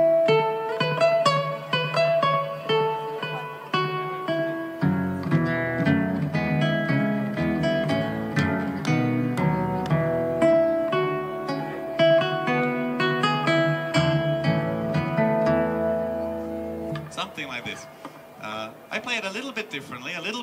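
Mussorgsky's Pictures at an Exhibition theme performed on a single melodic instrument at a comedy show at the Edinburgh Fringe Festival, a steady stately melody of clear repeated phrases, fairly loud and close throughout.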